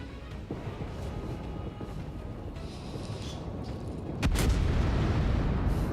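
The guns of a Baltimore-class cruiser fire in a naval combat game, with a rumbling background that breaks into a heavy, sudden boom near the end and a sustained low roar after it.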